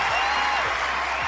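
Dense applause from a crowd, a steady wash of clapping filling the whole stretch without a break.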